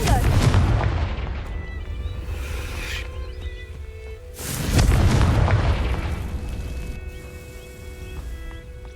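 Two booming blasts from the Confringo fire spell in the Hogwarts Legacy video game erupt over a rumbling background, with a crackling tail after each.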